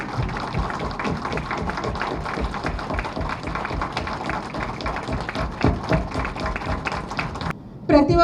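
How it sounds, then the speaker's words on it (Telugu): A seated audience at a political gathering rises and applauds loudly and steadily, a dense continuous wash of clapping that holds for several seconds before briefly dipping near the end and swelling again. "ఒక్కసారి మనమందరము నిలబడి నారాయణ గారికి మన వైపు నుంచి గట్టిగా క్లాప్స్"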